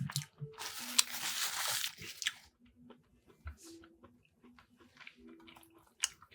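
Chewing poutine topped with Korean BBQ, close to the mic: a loud crunchy, crinkly bite burst near the start, then softer wet squishy chewing sounds scattered through the rest.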